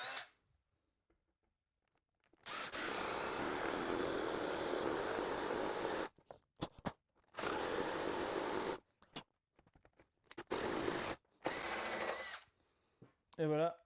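A power drill drives screws to fix a wooden board to a wooden lamp, with several loud whirring bursts of varying length separated by pauses and small handling clicks.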